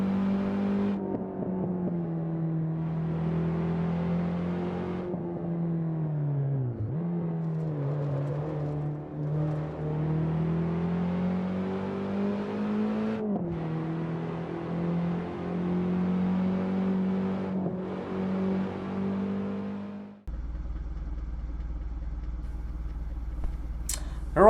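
Ford Sierra Cosworth RS500 engine in Assetto Corsa on the Pikes Peak hill climb, a steady loud drone rising and falling with revs through gear changes, then a sudden lower idle-like rumble near the end.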